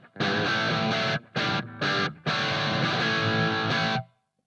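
Distorted electric guitar through a Marshall MG15CFX amp on its crunch setting with no effects or reverb, strummed chords in several bursts with short gaps, loud and close, then ringing out.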